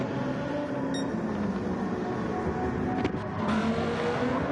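GT race cars in a sim racing game at a Kyoto circuit, their engines roaring steadily and close, with a brief shift or passing surge partway through, no talk over it.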